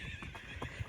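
Hooves of a cob mare clip-clop in a steady, rocking canter rhythm during an out-of-doors hack, a few thuds close by over a constant wind and ambient background, with no talking.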